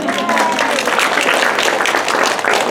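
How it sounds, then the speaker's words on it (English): A round of applause for a retiring teacher at a school board meeting, broad crowd clapping that stays loud and even for the whole stretch, with some faint voices mixed in. "give her a round of applause"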